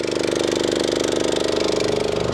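A small engine on a mixing machine runs steadily after starting, with a constant low rhythmic chug and throb filling the whole stretch at moderate, close volume.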